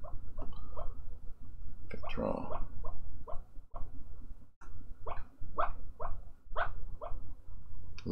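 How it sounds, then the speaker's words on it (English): A sleeping pet dog lets out muffled, rhythmic woofs and whimpering yips in repeated short bursts, close by over a steady background hum. "I think my dog's having nightmares."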